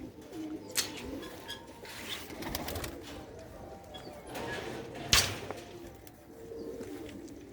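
Soft pigeon coos drift over a steady outdoor background, with a few brief sharper bird calls and scattered rustles.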